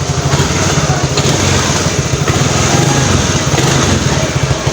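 A Suzuki Address scooter engine, running after routine service with fresh oil and a cleaned throttle body, is revved up close: a loud, steady buzzing drone with slight surges in pitch throughout.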